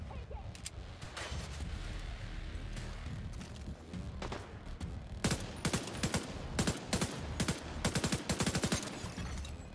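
Gunfire from a firefight in the video game The Division 2: a dense, sustained fusillade rolls on for several seconds and then gives way to sharper, louder bursts of rapid automatic shots close by.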